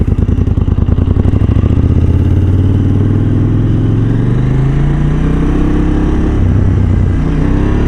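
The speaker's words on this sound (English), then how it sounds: "This is me opening throttle." A KTM 790 Duke motorcycle engine, loud and close, with the throttle opened: an idling thrum rises into a climbing rev that swells and holds steady across the stretch, no voices over it.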